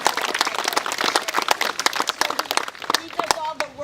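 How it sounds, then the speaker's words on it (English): A crowd claps in a dense, lively round of applause at a government gathering, loud and sustained with voices calling out over it. "I want to give you another round of applause"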